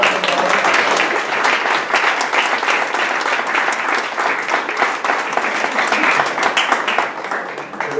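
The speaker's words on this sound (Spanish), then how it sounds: "yo pediría un aplauso" Dense, loud applause from an audience at a Spanish book presentation, sustained enthusiastic clapping that fills the room without pause before easing slightly at the end.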